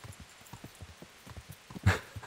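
An armoured horse galloping in the video game Kingdom Come: Deliverance, its hooves thudding in a quick, even rhythm close by, with one sharper, louder impact near the end.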